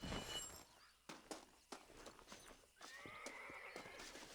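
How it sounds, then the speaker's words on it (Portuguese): A horse in the Red Dead Redemption video game whinnies and snorts, with a few sharp hoof clops on hard ground and a steady neigh rising near the end, close and clear. "Ó o cavalo."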